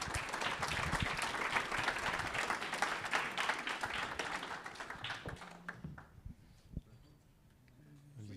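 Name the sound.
audience applauding at a conference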